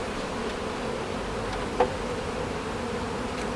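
A steady, dense hum of honey bees buzzing close by on hive frames, continuous and even, with a faint brief knock partway through.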